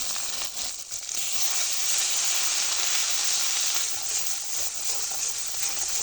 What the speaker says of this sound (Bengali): মশলাটা আমার খুব ভালো করে তেলে ভাজা হয়ে গেছে